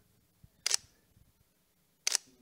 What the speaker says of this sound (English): I could hear the shutter literally breaking.